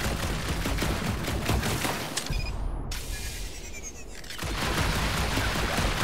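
Rapid bursts of gunfire in the Marvel's Guardians of the Galaxy video game, dense and continuous over a loud action soundtrack, with a brief sweeping tone in the middle and no speech.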